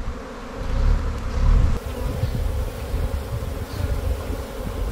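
Honey bees swarm around a hive frame full of honey, their dense, steady buzzing close and continuous for the whole stretch, loudest in the first two seconds.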